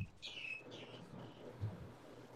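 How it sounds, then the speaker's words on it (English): Birds chirp faintly in the background of an online voice call, a few short high tweets early on and then quieter calls over a low room hum. "I hear somebody that's got birds in the background."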